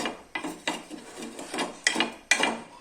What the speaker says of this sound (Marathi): परत आपण ते खरडून घेऊया लागलेलं कडेला